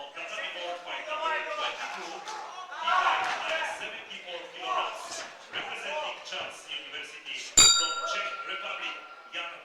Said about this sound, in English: And the bell ends the second round.